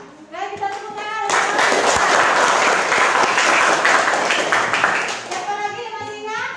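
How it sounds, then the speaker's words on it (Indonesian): Students in a classroom applaud together during a lesson on Microsoft Excel, a loud, sustained burst of many clapping hands that rises after talk and fades back into voices at the end. "oke kita tepuk tangan"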